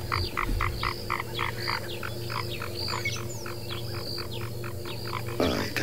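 Chorus of frogs calling at night in Kruger National Park, South Africa, a steady run of rhythmic, repeated croaks from several animals at moderate distance, with a low background hum and no talking.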